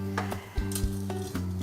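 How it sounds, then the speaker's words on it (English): An aubergine dish with lemon juice sizzles in a pan, a steady frying hiss broken by several sharp clinks of a utensil against the pan. "while that's sizzling away"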